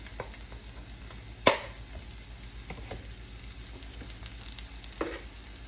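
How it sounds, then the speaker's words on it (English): Diced onions sizzle steadily in a hot pan for a jerk chicken casserole, a soft continuous frying hiss with a louder clatter as they drop in and a light stir later. "So I'm going to add a cup of diced onions."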